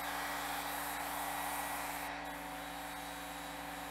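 A continuous airy hiss of brown colorant being sprayed in a light coat over recliner cushions, steady and fairly quiet, with a faint constant hum underneath.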